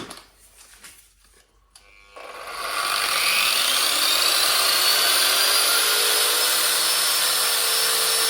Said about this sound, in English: We begin with the angle grinder, like this.